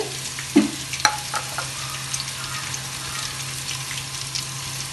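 Carrots, beans and peas sautéing in a pan for vegetable pulao: a moderate, continuous frying hiss with a few clinks and scrapes of stirring early on, over a low steady hum.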